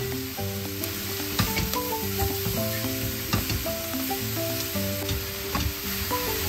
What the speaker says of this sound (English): Stir for a minute and this is done.